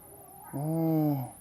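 A farm bird, likely a chicken, gives one clear, close, harmonic call of about three-quarters of a second, rising sharply then trailing off over a quiet outdoor background, with no talking.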